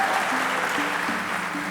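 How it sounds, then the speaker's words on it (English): Steady audience applause at a studio relationship game show fills the whole stretch as a dense, even wash of clapping, with a faint tonal hum beneath it. "a round of applause, please, for Mrs. Oyediro as she comes forward"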